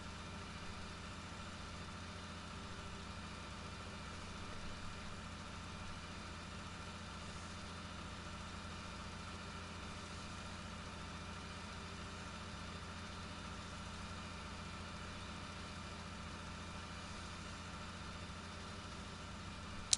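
A tractor engine idles steadily in a PS4 farming game, a constant low mechanical hum with faint harmonic whine, unchanging and alone for the whole stretch with no talk.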